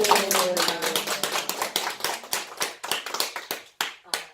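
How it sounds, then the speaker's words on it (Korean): An audience at a town debate claps for the mayor, a fairly close cluster of hands beating in a loose rhythm with distinct individual claps that gradually thin out and stop. "우리 박수 한번 시장님, 쳐주세요"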